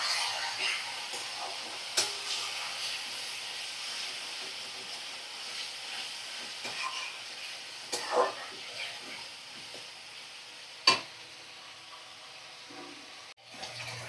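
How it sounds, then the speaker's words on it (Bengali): Chicken pieces sautéing in a pan give off a faint, steady sizzle, broken by a few soft clinks and scrapes of a utensil. "দেখো চিকেনের টুকরোগুলো দিয়ে দিলাম। এবার ভালো করে কষিয়ে নেব।"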